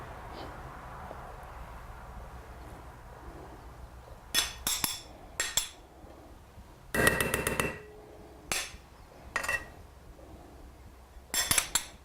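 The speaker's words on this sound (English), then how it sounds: "we're going to spoon it into our bowl" A spoon scrapes and clinks against a bowl while a lamb mixture is spooned in and spread out, giving scattered bursts of metallic clatter over a low, quiet background.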